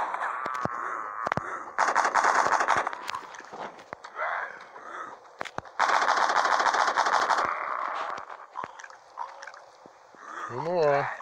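Gunfire from The Walking Zombie 2 game comes in two long rapid bursts of automatic shots, with scattered single shots, brief pauses and a short voice near the end.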